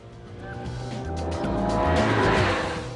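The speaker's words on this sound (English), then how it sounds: "The sporty little car brakes from that speed to a standstill in 113 feet" BMW 3 Series Compact tuned by Hartge braking hard from speed, engine note falling as the tires squeal and scrub, growing louder and closer toward the end with no talk.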